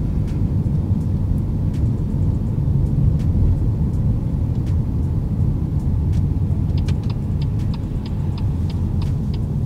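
A car driving during a driving lesson, a steady low road rumble and engine hum from inside the cabin throughout, with faint ticking clicks like an indicator toward the end.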